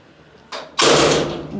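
Clanking metal slam as an old cage-style hotel elevator door is pulled shut in Rome, a short scrape followed by a loud, close rattling impact that rings briefly.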